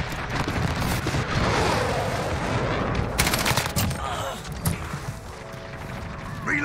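RAM-7 assault rifle gunfire in Modern Warfare rattles in dense automatic bursts, loud and close, mixed with distant shots, impacts and other battle noise from the match.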